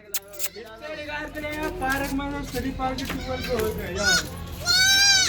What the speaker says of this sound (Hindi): बकरी है बच्चे कैसे में आ रहे?